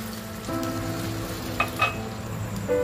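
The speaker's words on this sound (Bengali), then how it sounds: "গ্রেভি কিন্তু ফুটে উঠেছে" Fish and poppy-seed gravy bubbling in a pan, a steady close sizzle and simmer with a couple of small pops, no voices.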